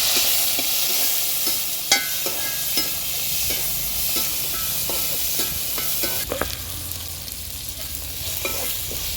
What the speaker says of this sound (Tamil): ஒரு தக்காளி கட் பண்ணி வச்சுருக்கேன். அதையும் போட்டு நல்லா வதக்கிக்கலாம்.